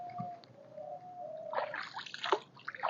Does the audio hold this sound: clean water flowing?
yes